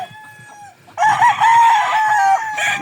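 A rooster crows loudly and close, a long drawn-out call after a few soft clucks from hens nearby.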